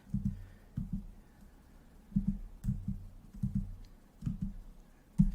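Muffled keyboard keys clack in small irregular bursts, soft and low, with brief pauses between clusters of typing.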